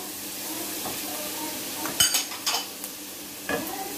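Spiced chicken patty filling with black pepper, coriander and chopped green chillies is mixed in a bowl, giving a steady soft scraping hiss broken by a few louder clinks and scrapes of the spoon.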